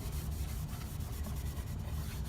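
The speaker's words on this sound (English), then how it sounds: "rub in as much as will take the grain" Briwax being rubbed into the grain of wooden furniture with a cloth, a steady close scrubbing and rasping rub that continues unbroken throughout, with no talking.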